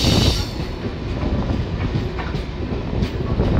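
A passenger train pulls out of Ambajora Shikaripara station, heard from inside the coach as a continuous heavy rumble with clickety-clack of wheels and faint squeals, steady and fairly loud.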